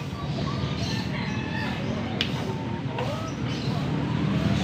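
White Kelso gamefowl rooster at a busy outdoor gamefowl sale in Angeles, Pampanga, giving brief clucks and a short crow amid steady crowd noise, traffic and people talking nearby.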